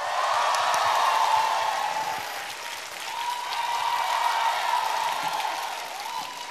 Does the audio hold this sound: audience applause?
yes